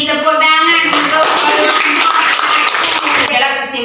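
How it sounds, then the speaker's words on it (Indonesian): A classroom of students claps their hands in a brief burst of applause, heard amid lively voices and a teacher speaking throughout. "Tepuk tangan untuk"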